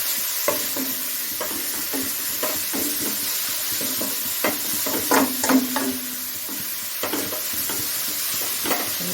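Carrot and beetroot sauté in a pan, with a constant sizzling hiss and a regular series of clicks and scrapes as the vegetables are stirred. It is close and fairly loud, with no voices.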